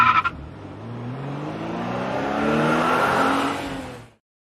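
A car accelerates, its engine rising in a revving sweep that builds over several seconds before cutting off sharply, moderately loud with no talk over it.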